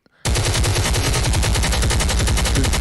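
After a brief pause, loud continuous automatic gunfire erupts and keeps going in a rapid, steady, pounding rhythm.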